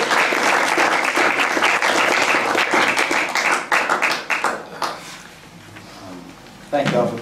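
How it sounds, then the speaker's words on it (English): A live audience at a jazz recital gives a big round of applause for drummer Brian Blade, dense clapping that thins out and fades before a voice begins speaking at the very end. "how about a big round of applause for Brian Blue?"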